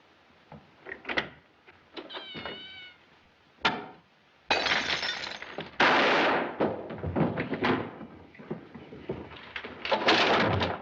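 A single gunshot cracks down a hallway in a 1938 film, a sharp loud report among other abrupt bangs and breaking-like impacts over a dim, hissy soundtrack.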